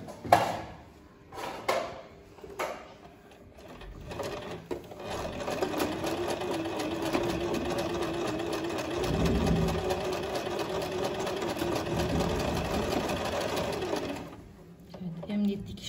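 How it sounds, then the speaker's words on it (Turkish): A sewing machine runs steadily for about ten seconds, sewing a straight stitch along a marked corner of a tablecloth, its motor hum loud and continuous, with handling noises before and after. "Şimdi o işaretlediği yeri düz dikişle"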